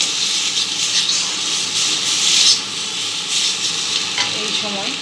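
Half-ripe papaya curry fries in oil that has started to separate, a loud, close, steady sizzle with scraping stirs swelling and fading throughout.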